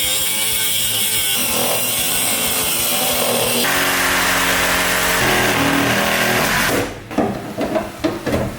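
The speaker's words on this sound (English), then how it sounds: "so that's what the cutoff wheel is gonna help with" An abrasive cutoff wheel grinds through rusty old leaf spring shackle bolts under a 1965 Mustang, a loud steady high-pitched whine that holds for several seconds before cutting out into scattered clanks.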